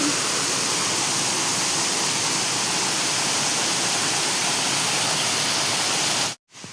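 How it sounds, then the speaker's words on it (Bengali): A waterfall pouring down from above at Daringbari, a dense continuous roar of falling water heard close and alone, cutting off abruptly at the end. "এই ওপর থেকে যে ঝর্ণাটা পড়ছে ওটা দেখতে পারবো"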